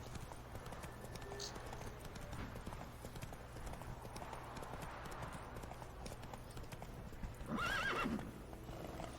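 Hooves of Roach, a horse in the Witcher 3 video game, clip-clop steadily at a gallop under continuous game ambience, ending with a loud whinny near the close.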